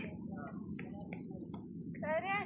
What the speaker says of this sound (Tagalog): Naririnig yung kuliglig, no?